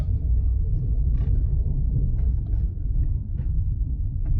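Steady low engine rumble from a car cruising in third gear through a town at city speed, a continuous near drone with faint clicks and no talking.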